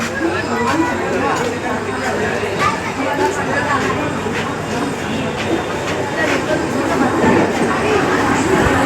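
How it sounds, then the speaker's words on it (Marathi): A Churchgate fast local train rumbles and clatters into Dadar station with rhythmic rail clicks, while voices chatter throughout against the steady din. "तर फायनली ट्रेन आली मित्रांनो"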